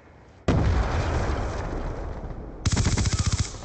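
Grenade explosion in Call of Duty Black Ops 2, a sudden loud blast with a long rumbling tail, followed by a rapid burst of automatic gunfire, close and alone without talk.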